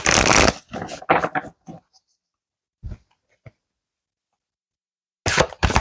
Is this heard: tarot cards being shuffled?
yes